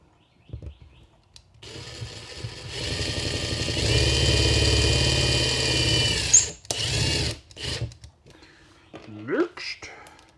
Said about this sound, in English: let's get the screws in here